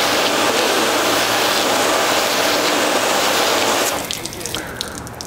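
Water from a hose rinses a car and sheets off the painted panels in a loud, steady gush that cuts off sharply near the end, leaving scattered drips and splashes.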